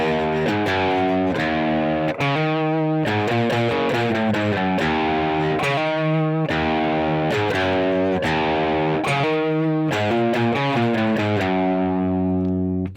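Distorted electric guitar plays the heavier closing riff of a song: a steady, thick stream of driven chords and notes in a repeating pattern, alone without voices.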